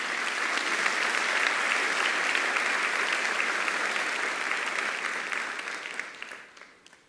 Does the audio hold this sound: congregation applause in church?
yes